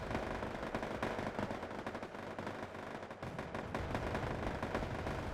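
Infantry gunfire in Wargame: AirLand Battle: dense machine-gun bursts and rifle fire crackle without pause, loud and close, with scattered heavier shots throughout and no voices.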